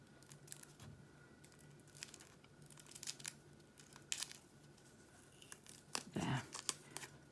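Sellotape peeling off a foam-wrapped package of diamond painting kits, faint intermittent tearing and crinkling rips close by, with quiet rustling between pulls.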